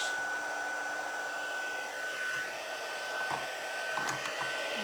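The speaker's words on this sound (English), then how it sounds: "it's going to take just a minute for that heat gun to get warm" A heat gun runs steadily, warming up before cherries are worked on, giving a constant close blowing whir with a faint high whine and no speech.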